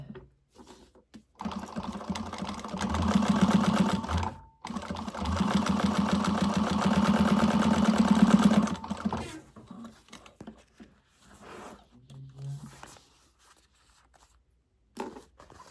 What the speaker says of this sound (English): I'm top stitching this as well to keep that flat